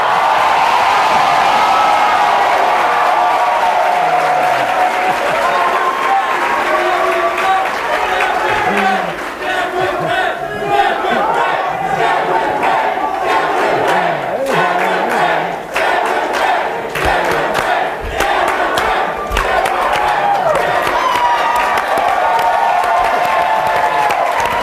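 A large crowd at a Young Americans for Liberty convention cheering, whooping and applauding loudly and continuously, with voices mixed into the roar.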